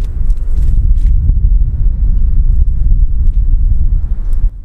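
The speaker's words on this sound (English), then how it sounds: "It's so windy." Strong wind buffets the microphone outdoors on a disc golf course, a loud, steady low roar with gusting rumble that fills the whole stretch, and no one speaks.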